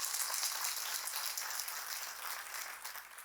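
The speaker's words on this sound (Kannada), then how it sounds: "ಜೋರಾದ ಚಪ್ಪಾಳೆಯನ್ನು ಅವರಿಗೂ ಕೊಟ್ಟುಬಿಡಿ" Sustained audience applause at a Kannada celebration event, a steady broadband wash of many hands clapping at moderate level with no voices on top, holding throughout before easing slightly at the end.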